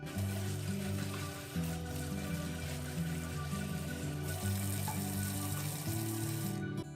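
Tap water runs steadily into a sink while carrots are rinsed under it, a continuous close splashing stream with a faint background tone throughout.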